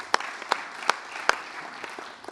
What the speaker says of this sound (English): Let's give a round of applause for Chief Burbank.